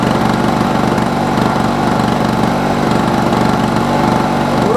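A Yamaha-powered SDMO generator engine runs steadily up close and loud, its droning hum surging and dipping in a rhythmic pattern that suggests uneven running.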